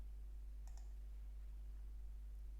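A couple of quick, light mouse clicks close together near the start, over a steady low electrical hum.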